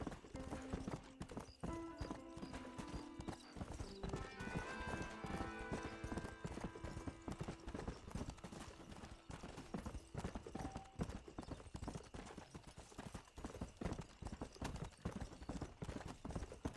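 Continuous rhythmic hoofbeats of a galloping horse in Red Dead Redemption, close and loud, running throughout with layered game music and effects around them.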